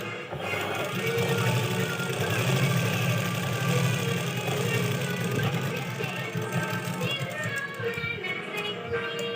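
A sewing machine stitches a seam between a blouse and its lining, making a continuous close mechanical whirr with a faint rhythmic tapping that stays loud and steady, with no speech.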